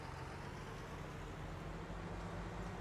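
A tractor engine in a farming game drives steadily, a continuous low droning rumble at an even level for the whole stretch, close and unbroken with no talk over it.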